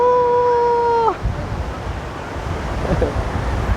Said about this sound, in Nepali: मैलुङ झरना हो के